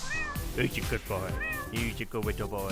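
A cat in the video game JudgeSim meows repeatedly and loudly while a person talks over it at the same time.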